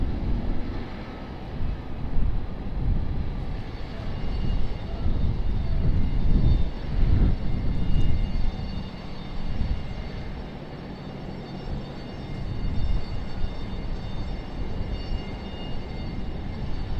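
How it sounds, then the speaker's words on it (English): A JetBlue Embraer E190 passenger jet lands at Raleigh-Durham International Airport. A broad engine roar rises and peaks midway through the clip, then eases into a steadier rumble as the plane rolls out. "will JetBlue be a butter landing? Yes, it will."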